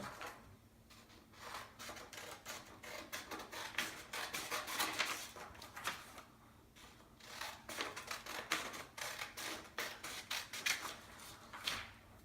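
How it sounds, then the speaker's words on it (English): Scissors snipping through a sheet of paper to cut out a square, a long run of close, crisp rhythmic cuts with brief pauses between strokes and no talking. "using the scissors, cut out the square."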